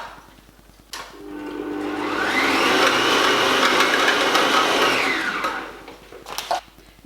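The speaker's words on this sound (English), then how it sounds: "we'll give them a quick blitz" Blender blitzing vegetarian stuffing ingredients: the motor starts after a click, rises into a steady loud whirring roar for about four seconds, then winds down, with a few clunks at the end.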